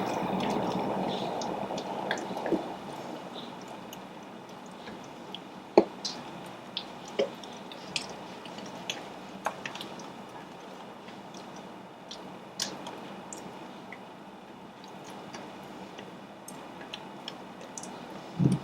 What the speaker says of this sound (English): switch over to like a rubber spatula. I'm gonna add my melted butter and mix it in.